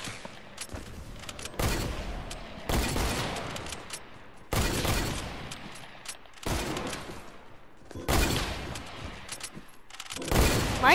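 Rapid bursts of gunfire in the video game Fortnite, several loud rattling volleys separated by short pauses, with no talking over them.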